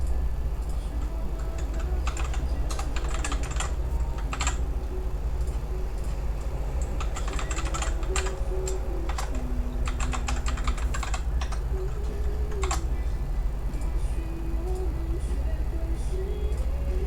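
Quick, steady typing on a computer keyboard to enter details into an online lost-and-found system, with clicking key bursts close by over a loud, constant low background rumble.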